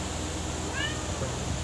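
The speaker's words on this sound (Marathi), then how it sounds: "आमचं छोटंसं एक मांजराचं पिल्लू आहे, ते पण माझ्यासोबत असं बोलायला" A small kitten at home gives one short, thin meow over a low household background hum.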